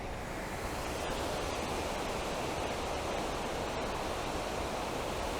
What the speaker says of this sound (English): I'm guessing this will be the second waterfall.